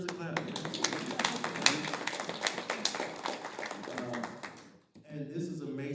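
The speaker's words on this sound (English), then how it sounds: "that deserves a clap" Applause at a committee meeting: a short round of clapping from a group in a room, mixed with talking voices, then fading out before speech resumes.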